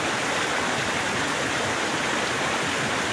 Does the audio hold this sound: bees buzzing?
no